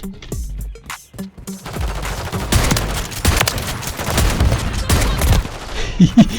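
Rapid bursts of gunfire from the Reclaimer 18 shotgun in Call of Duty Warzone III, a new shotgun with two firing modes; dense, loud repeated blasts fill most of the stretch, with a few sparse shots at the start.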